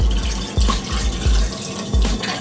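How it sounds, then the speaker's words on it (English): Montana street ink pours into a squeeze bottle in a series of close, gurgling glugs, several burbling pulses over about two seconds. "I'm gonna give the bottle a good old fill, maybe even water it down a little bit"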